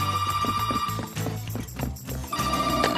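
A telephone rings in a cartoon scene, a bright repeating electronic ring pattern over soft background music and clopping sounds, moderately loud and close, with no talking during the rings.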